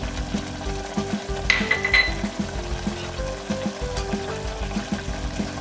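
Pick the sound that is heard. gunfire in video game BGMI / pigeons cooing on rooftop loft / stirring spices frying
stirring spices frying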